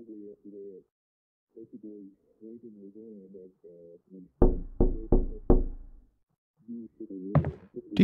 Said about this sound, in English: There's a knock on my door.